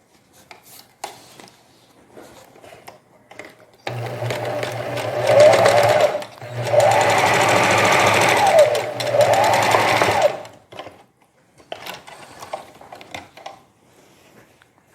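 Domestic sewing machine stitching a seam on a knit collar for a jersey coat: loud steady mechanical whirring in two long runs with a brief pause, framed by quieter handling and fabric sounds.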